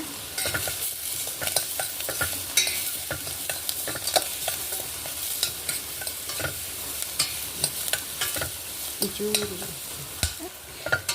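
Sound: green chillies frying and being stirred in a pan

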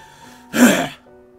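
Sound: throat clearing

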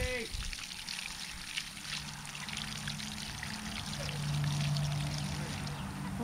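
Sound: water poured to wash mud off harvested sweet potatoes

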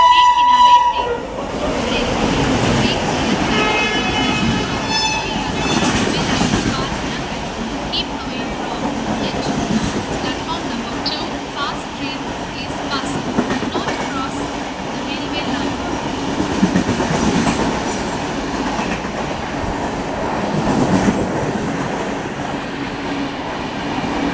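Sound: express train passing platform

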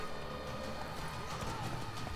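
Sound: horse hooves while riding, from video game The Witcher 3

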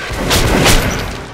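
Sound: shotgun firing in video game Metro: Last Light Redux

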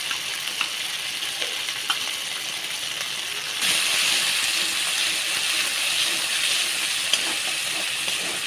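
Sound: frying coriander and cumin paste with dried chilli paste

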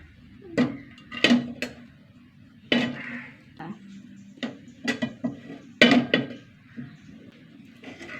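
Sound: cooked rice being transferred into another pot

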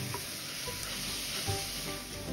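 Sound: sautéing onions and grated carrots in a pot

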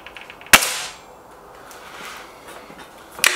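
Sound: air rifle shot, Gamo Whisper X or Hatsan 900X

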